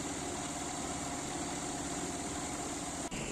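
Steady drone of an ultralight aircraft engine running on a test bench at Lurcy-Lévis, loud and continuous without variation, with a brief dip near the end.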